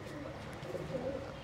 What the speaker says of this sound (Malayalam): ഇത് വേറൊരു എണ്ണം പ്രാവാണിത്